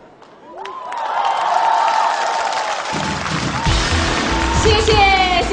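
A studio audience breaks into applause and cheering for magician Liu Qian, swelling from quiet into a sustained roar of clapping and whoops, with a voice speaking over it near the end.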